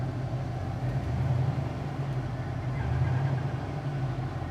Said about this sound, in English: Let's put our 84 Olds down on the ground and we'll show you guys how the vehicle runs.